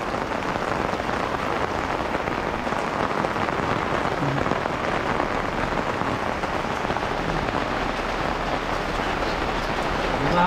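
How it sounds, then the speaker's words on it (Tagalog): Heavy typhoon rain from Krising pours down on a catering event in Bamban, Tarlac, a dense, loud, unbroken hiss of drops hitting surfaces that stays steady for the whole stretch. "Yun mga kaigan, lakas ng ulan."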